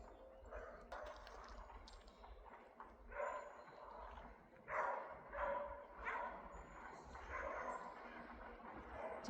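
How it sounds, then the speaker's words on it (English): Several dogs bark in short bursts amid a busy park crowd, with steady background chatter and a couple of louder, closer barks standing out over the murmur. "Here is always busy, a crowd with people and dogs, as you can hear."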